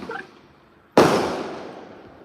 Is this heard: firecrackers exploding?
yes